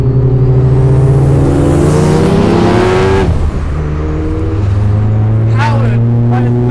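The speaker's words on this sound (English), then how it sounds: "Powered by a 13B turbocharged rotary engine, this car sounds and goes like a" A turbocharged 13B rotary engine in a Mazda FD RX-7 revs up sharply from 3,500 RPM with a rising whine, then drops back to a rumbling idle with a brief higher whistle near the end.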